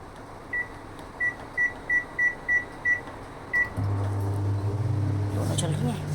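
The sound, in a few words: microwave oven heating vegetables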